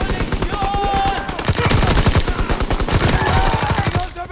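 A PPSh submachine gun in Call of Duty: WW2 fires loud, rapid automatic bursts in close-quarter combat, with fast rhythmic shots running almost continuously before cutting off at the end.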